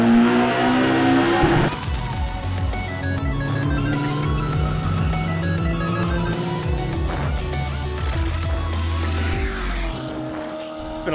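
Sequential turbo F-Series Honda S2000 engine running on a dyno, loud and close, with a steady droning note that shifts pitch as the revs change.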